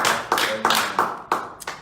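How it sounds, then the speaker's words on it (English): A handful of people clap on a talk show set, about six sharp, separate hand claps spaced evenly apart, close and moderately loud with no voices over them. "Everyone, please clap for everyone."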